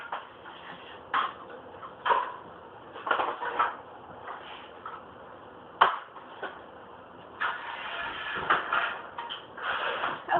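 Dishes, pots and cutlery are cleared away in a kitchen after cooking, with irregular clinks, clatters and knocks over about ten seconds, close and moderately loud, with no talking.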